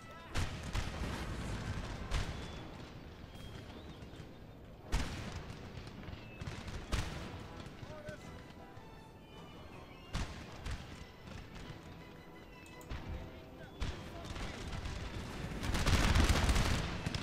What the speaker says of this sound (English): They're under all kinds of fire. Cannon fire, small arms fire.